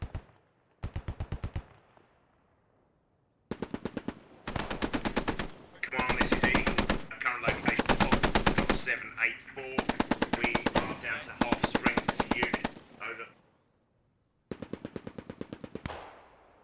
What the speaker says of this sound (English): Man, I love the sound of the 50.